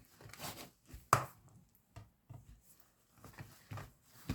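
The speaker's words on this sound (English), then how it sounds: "And I'm going to go ahead and mix it up." Pancake batter of wheat flour being mixed by hand in a bowl, with irregular soft slaps and knocks, one sharp louder hit, and short scraping strokes close by, with no talking.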